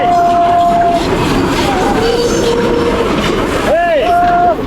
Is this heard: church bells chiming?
no